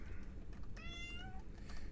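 A cat meows in a drawn-out, wavering howl that rises and then trails off, moderately loud over a steady low background hum, with no one talking.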